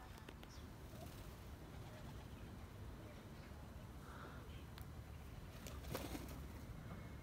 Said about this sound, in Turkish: Kaya kuşları serdik.